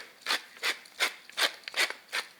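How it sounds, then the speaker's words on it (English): A pepper mill grinding black pepper over a salad: six evenly spaced rasping grinds, each a short gritty crunch, close and fairly quiet with brief pauses between turns. "Now I want to hit this with a few grinds of black pepper."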